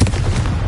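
A single close, loud explosion from the Confringo blasting spell in Hogwarts Legacy, a dense booming burst filling the whole short moment.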